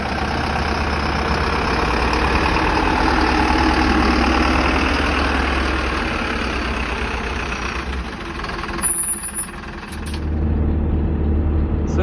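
An overland camper vehicle's engine rumbles steadily at close range as travellers drive on through Armenia, a low continuous drone that dips briefly near the end before picking up again.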